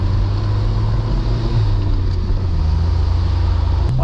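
A jeep grinds along an untouched, slick snowy road in first gear, its low engine drone steady and close with a brief shift in tone partway through, no voices over it.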